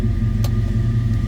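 A 1964 Chevrolet Chevelle Malibu SS on a cold start, its engine settling into a steady, loud, deep idle rumble close by, with a brief ticking click partway through.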